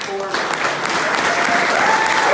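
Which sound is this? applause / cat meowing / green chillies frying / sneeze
applause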